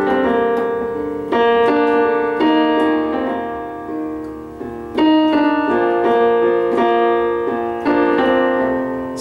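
Solo piano plays a song, sustained chords and a melody with a few extra left-hand bass notes filling the gaps, loud and close, no talking.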